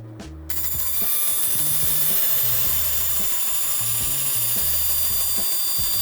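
A bandsaw rips through a length of wood guided along a marked line, giving a loud, steady whine with a rhythmic pulsing hum underneath and no talk.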